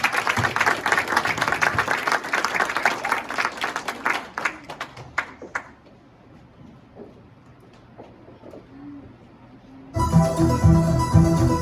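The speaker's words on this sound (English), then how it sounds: "So let's give Jacob a round of applause." Applause rises at a karate awards event, dense clapping that thins into scattered claps and fades to near silence, before loud music abruptly starts.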